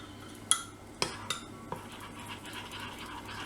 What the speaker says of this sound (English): and again keep stirring it in